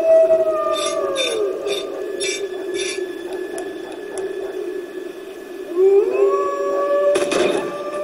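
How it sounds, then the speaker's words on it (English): A wolf howls in the video game Sang-Froid, long rising and falling wailing tones that are loud and near. A second howl rises near the end, with crackling game effects over it. "Wolf leaned back a little bit on his howl."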